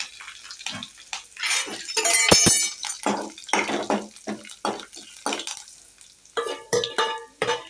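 Curry leaves crackle and sizzle in hot tempering oil for a Malabar spinach and tomato curry. The spitting comes in uneven bursts, mixed with stirring scrapes, at moderate loudness.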